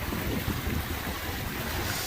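Steady wind roars while a sailboat runs fast in the lee of Beaver Island on open water in about 18 to 23 knots, a dense continuous rush of wind noise and sea wash with no voices.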